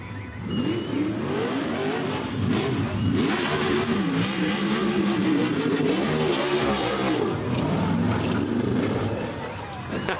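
A sprint car at the Australian Sprint Car Championship feature race revs its engine loudly and continuously on a lap after the checkered flag, a droning, rising-and-falling roar with commentators talking over it throughout.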